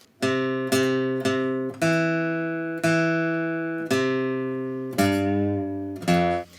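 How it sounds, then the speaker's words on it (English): An electric guitar plays a short bluesy phrase of plucked notes and ringing chords, each attack decaying, with a final sharper note at the end. "the 3 bars of intro before we start into our main section go like this."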